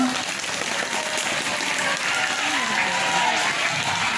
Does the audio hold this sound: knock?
no